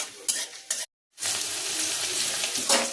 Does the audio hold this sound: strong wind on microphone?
no